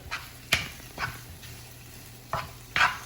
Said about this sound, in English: I'm now going to stir my veg through as well